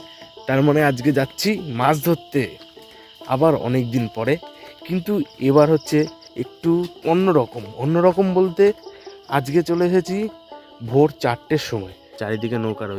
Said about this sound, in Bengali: দেখো ঝিঝি পোকার ডাক শোনো।